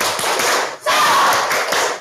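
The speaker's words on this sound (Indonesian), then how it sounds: "tepuk semangat lagi" A school class performs a rhythmic 'tepuk semangat' clap, sharp patterned hand claps and taps in quick bursts with a short pause partway through, close and loud.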